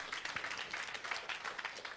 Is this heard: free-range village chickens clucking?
no